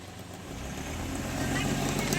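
A Hyundai Xcent with a fault where acceleration rises on its own revs as the accelerator is pressed, its engine rumble building steadily louder and fuller, close by and continuous.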